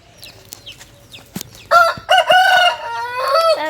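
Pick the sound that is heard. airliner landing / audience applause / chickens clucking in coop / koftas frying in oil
chickens clucking in coop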